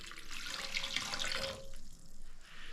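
Water pours steadily into a bread maker pan for about a second and a half, then trickles off to a quieter splash, close by with no talking.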